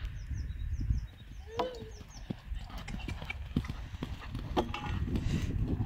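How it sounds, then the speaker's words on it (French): A horse gallops around a turn during a jumping session, its hoofbeats close, rapid and rhythmic, with birds chirping in the background. "Ton galop dans le virage, il était pas fou"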